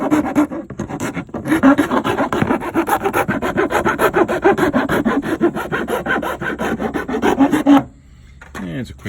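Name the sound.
filing a fog light mounting hole with a hand file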